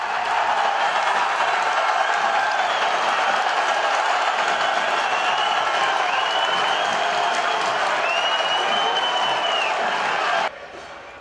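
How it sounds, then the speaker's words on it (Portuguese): Crowd of Criciúma football fans roaring and cheering in a stadium after a goal, a dense continuous wall of voices and applause with whistles rising through it, loud and sustained before dropping off sharply at the end. "Festa da torcida carvoeira."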